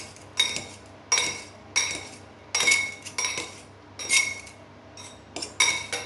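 Cooked, drained carrots with a drizzle of olive oil being stirred in a dish: about nine clinking, scraping strokes of a utensil against the dish come in a steady rhythm, close and fairly loud, with no talking.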